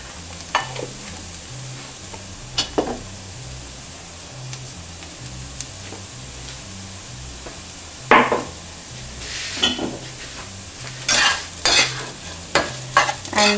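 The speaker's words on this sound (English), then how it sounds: "saute it for 1 or 2 more minutes" A samosa chaat mixture seasoned with chaat masala and amchur sautés in a pan, a low sizzle under repeated sharp spatula scrapes and clacks that come in bursts, close up with no talking.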